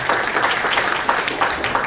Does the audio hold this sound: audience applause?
yes